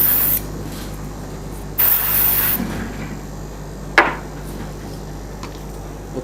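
Spray painting with an aerosol can, two short hissing bursts in quiet surroundings, followed by a sharp knock.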